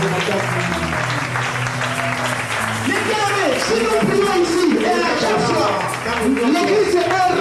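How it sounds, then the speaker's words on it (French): Applause from a church congregation at a Pentecost service, steady clapping mixed with cheering voices and crowd noise throughout, fairly loud and close. "Acclamez ton fort"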